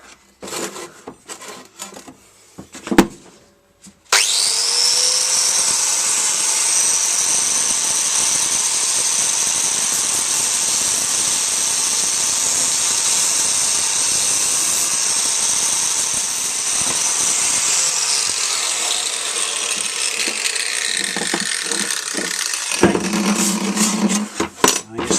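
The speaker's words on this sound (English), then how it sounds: "So a little bit of lapping." Metal edges and curves on a car side mount are lapped in a garage, with a few clanks and knocks before a sustained, close grinding hiss starts and carries on steadily, then fades into more scattered handling noises.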